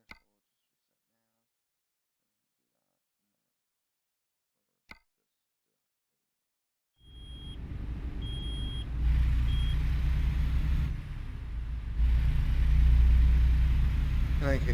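A truck with a Detroit engine and a 10-speed transmission in American Truck Simulator starts up after near silence into a steady low engine rumble, with a few short beeps on top.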